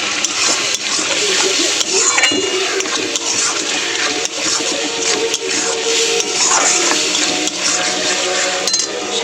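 Water goes into a frying masala of ground spices, chilli powder and turmeric, a loud close splashing and bubbling rush that runs throughout, with clattering over it.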